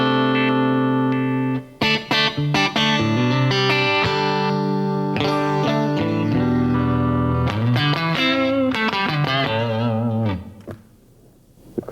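A Stratocaster electric guitar plays chords and single-note lines through a crunch tone, a mostly clean sound with mild distortion, loud and close with ringing sustain before fading out at the end.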